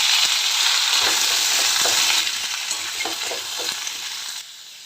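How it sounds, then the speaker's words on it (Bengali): Potatoes and pumpkin for kumror chokka fry in oil tempered with spices and hing, giving a loud, steady sizzle with stirring scrapes that eases off toward the end. "ধুয়ে রাখা আলু আর কুমড়ো একসাথেই দিয়ে দেবেন"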